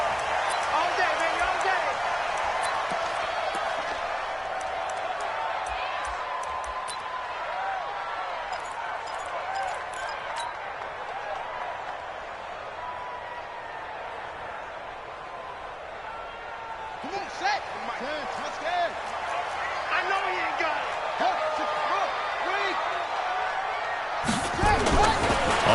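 A simulated stadium crowd in the Madden 20 football game, Saints against Cardinals, keeps up a continuous dense roar for the whole stretch, swelling near the end, with a voice talking over it.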